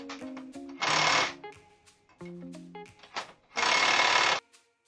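A power screwdriver driving screws into the rear axle wheel hub assembly of an ATV quad, two long loud whirring bursts separated by shorter mechanical whines and clicks, close up with no speech.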